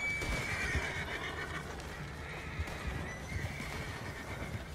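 In Red Dead Redemption 2, a horse gives a drawn-out whinny up front while hooves clop irregularly underneath against low rumbling ambience, fairly quiet overall.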